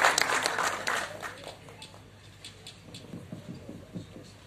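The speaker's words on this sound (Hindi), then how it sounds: "एक बार जबरदस्त तालियां" Applause bursts out from an audience at a gathering and fades after about a second and a half, leaving a low murmur and some faint talk.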